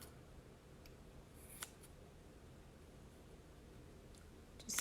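Scissors cutting fringe for a handmade gnome ornament, a few faint, brief snips and clicks in a quiet room.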